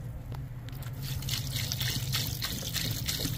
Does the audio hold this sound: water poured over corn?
yes